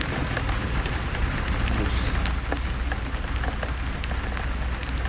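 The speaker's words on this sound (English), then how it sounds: "Oh, rainy out here, huh?" Steady rain patters on a car during a nighttime police traffic stop, a dense continuous hiss of drops on the roof and glass with no clear voices.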